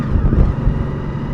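A 1998 Honda VFR 800 and a 1978 Honda XL175 out on the road, a steady low engine drone mixed with rushing wind buffeting the microphone, with no talking.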